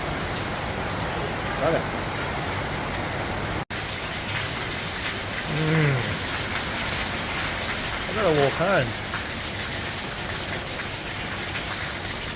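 Heavy wet-season rain pours down steadily in Asia, a dense, unbroken hiss of water on surfaces that runs the whole time, with a brief dropout early on and a few short spoken words over it.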